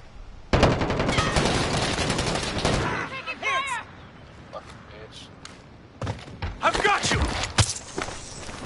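Rapid video game gunfire from a PS4 shooter, dense automatic bursts for the first few seconds, then a quieter gap with scattered shots before a second round of loud firing, with a player voice talking over it.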